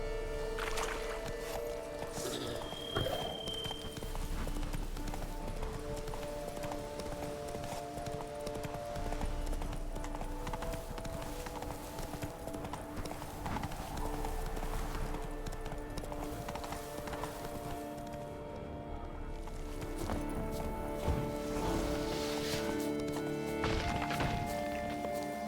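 Roach the horse galloping in The Witcher 3, a rapid, continuous clip-clop of hooves at moderate distance, steady for the whole stretch under low ambient game sound.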